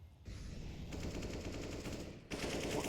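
Counter-Strike automatic rifle fire rattles in fast, sustained sprays that break off briefly before a fresh burst starts, sitting fairly low and slightly distant in the game's mix.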